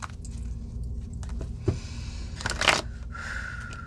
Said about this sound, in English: Let me get a couple more decks shuffled here